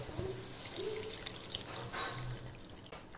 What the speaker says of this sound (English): Now we will add 1 cup of milk.